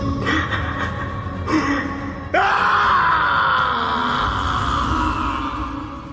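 A man screams in an Indian film, a sustained, anguished wail that swells loud around the midpoint and carries on over a dense dramatic score.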